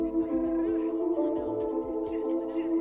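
A looping beat with its low end filtered out, sounding thin and hollow, steady melodic layers continuing without the usual bass weight.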